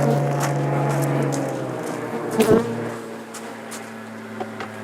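Honey bees buzz steadily around a tightly packed beehive box with frames, inner and outer covers at an outdoor apiary, a continuous droning hum with a brief louder swell near the middle.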